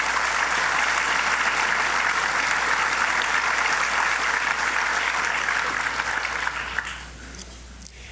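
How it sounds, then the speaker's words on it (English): A crowd gives a long round of applause for the winning companies at a governor's Penn Station–Farley Complex unveiling, sustained dense clapping that fades out near the end, leaving a few stray claps. "let's give them a round of applause"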